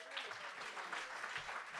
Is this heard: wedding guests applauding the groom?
yes